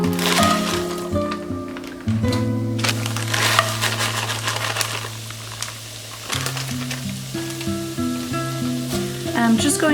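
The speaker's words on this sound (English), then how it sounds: "once it gets hot, I'm adding my cauliflower" Cauliflower sizzles and fries steadily in a hot pan for a paleo burger dish, with occasional stirring clatter and crackles throughout, while a sustained musical drone sits underneath the whole time.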